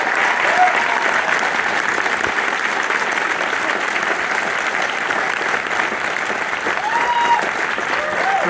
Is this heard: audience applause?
yes